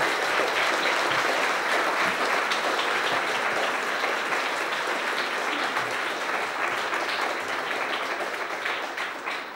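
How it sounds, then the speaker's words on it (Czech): A lecture hall audience gives a professor full, sustained applause, a dense and even roar of many hands that stays loud throughout and tapers only slightly at the end. "myslím, že se zaslouží potlesk určitě"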